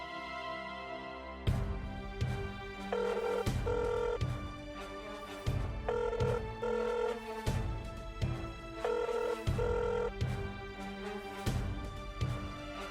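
A phone rings repeatedly in a steady pattern of ringback tones, continuing unanswered with no voices.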